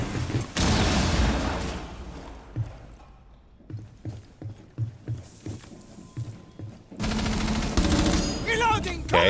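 Gunfire in Rainbow Six Siege during a wall breach: a run of evenly spaced sharp shots between louder stretches of noisy in-game action, with faint talk alongside.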